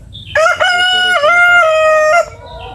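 A rooster crowing once, loud and close: a single drawn-out cock-a-doodle-doo with a choppy start that lasts about two seconds, with no talk.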